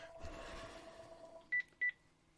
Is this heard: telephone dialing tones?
yes